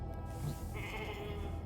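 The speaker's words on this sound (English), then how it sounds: "Never thought I'd be so glad to see a sheep." A sheep bleats in the video game The Alters, one clear wavering cry of moderate loudness that rises over a steady low background hum.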